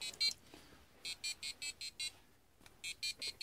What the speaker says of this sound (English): you can get sounds out of just a plain old piezo buzzer